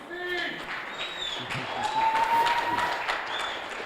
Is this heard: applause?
yes